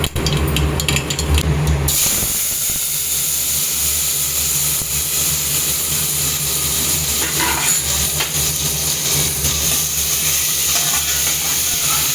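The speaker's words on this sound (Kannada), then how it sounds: "ಒಗ್ಗರಣೆ ಕೊಡಬೇಕು ಎಣ್ಣೆ ಸಾಸಿವೆ ಹಾಕಿದ್ದಾರೆ" Loud, steady sizzling and crackling of mustard seeds frying in hot oil for tempering, continuous and close, with a brief clatter near the start.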